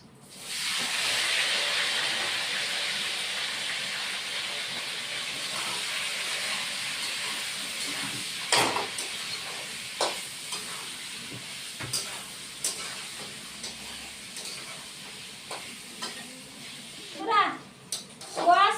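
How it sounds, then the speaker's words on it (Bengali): A steady loud hiss of potatoes and squash frying in hot oil, fading over time, with scattered clinks and a voice near the end. "এবার আলু আর কোয়াশটা ভাজবো"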